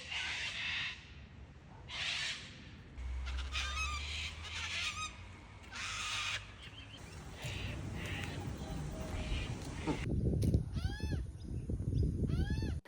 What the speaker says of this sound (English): The bird sounds might annoy some people, but I absolutely loved it.